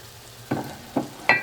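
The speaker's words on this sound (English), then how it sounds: "once you can smell the garlic, we're going to add our celeriac" Diced celeriac root tumbling into a hot pan of sizzling garlic, three distinct bursts of clatter and hiss in quick succession, each flaring up then settling into a low steady sizzle, close and fairly loud with no talking.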